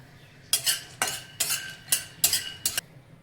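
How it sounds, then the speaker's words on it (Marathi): Peanuts being dry-roasted in a kadhai, with six sharp scraping stirs of a metal spatula at a steady rhythm, close and fairly loud over a quiet background. "आता आपण त्याच कढईमध्ये शेंगदाणे भाजून घेणार आहोत"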